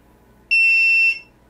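A 3D printer beeps once while unloading filament with the nozzle heated to 210, a single steady, bright electronic tone lasting about half a second, clear and close against a quiet room.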